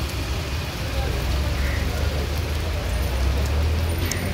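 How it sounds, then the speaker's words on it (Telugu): Steady rain pours at the Guntur chilli market yard as a loud, even hiss and patter with no break, and faint voices sit beneath it. "వర్షం పడుతూనే ఉంది."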